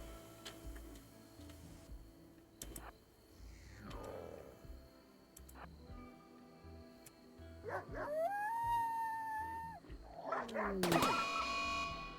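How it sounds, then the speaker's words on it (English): A compressed, tinny dog howl plays in the video game Rimworld. It rises in two loud, drawn-out wavering calls near the end, over low game ambience and faint ticking. "The compressed dog noise."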